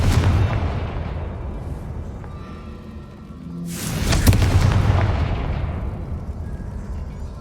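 Roaring action from Hogwarts Legacy, with a Confringo fire spell erupting into a loud, broad explosion midway that swells out of steady background rumble and then slowly dies away.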